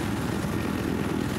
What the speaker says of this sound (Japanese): ちょっとリトルバード、リトルバード乗りたい。 リトルバードゲット。